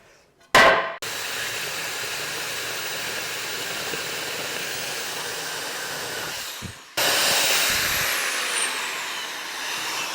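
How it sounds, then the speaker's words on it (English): A loud, steady power drill whines continuously for several seconds while drilling through brick, briefly stopping and restarting, with a sharp clatter at the start; no talking. "so when I drill, I don't drill through my garage floor"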